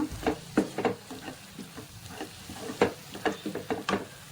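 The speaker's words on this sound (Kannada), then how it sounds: "ಈಗ ಇದನ್ನೆಲ್ಲ ಚೆನ್ನಾಗಿ ಮಿಕ್ಸ್ ಮಾಡ್ಕೊಳ್ಳೋಣ" Egg curry masala with green chilies and salt stirred in a hot pan, a spatula scraping and tapping in quick irregular strokes over a soft, low sizzle, close and without speech.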